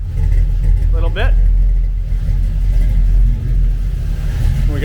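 An LS-swapped square body truck with dual exhaust and an aftermarket cam idles with a deep, lopey rumble, close and loud, with brief higher voice-like sounds over it.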